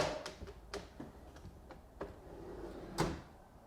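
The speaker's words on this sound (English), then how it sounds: "Now I can just take and set the drawer in place. Push it until it engages those clips." A ready-to-assemble kitchen cabinet drawer slid onto its runners, a string of light clicks and knocks as the slides catch their clips, ending in one firmer snap near the close; quiet and without talk.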